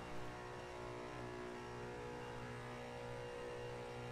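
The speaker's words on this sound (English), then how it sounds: "That is a pretty fast car. And also a very loud car." Loud, fast car engine in the LEGO Worlds video game, a steady droning game-engine hum that holds constant throughout, fairly faint in the mix.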